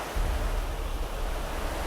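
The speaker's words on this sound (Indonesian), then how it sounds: "dari yang bendungan sini ke bawah sini dan menuju sungai" Water flows down from a dam toward a river, a steady broad roar of rushing water that is loud and constant throughout, with no voices.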